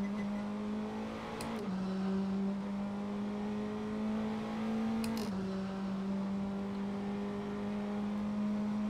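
A Praga R1 race car engine drones steadily in a sim racing game at Monza, heard from on board at moderate volume. Two short upshifts briefly drop the pitch, with faint clicks at each change.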